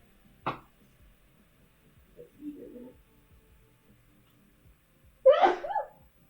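A person lets out one sharp, close sneeze after a few seconds of near quiet broken by faint, small rustles.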